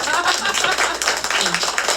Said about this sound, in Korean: 정말 박수 한번 보내드릴까요?